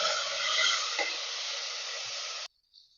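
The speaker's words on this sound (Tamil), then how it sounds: "இந்த தக்காளியும் நல்லா வதங்கி வரணும்" Steady sizzling and frying hiss of tomatoes and onions sautéing in a hot pan, continuous and fairly loud, then cutting off abruptly near the end; no talking.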